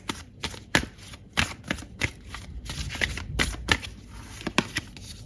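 Tarot cards are shuffled by hand to draw one more card, producing a quick run of crisp riffling flutters and soft slaps, close up and steady for several seconds with no talking.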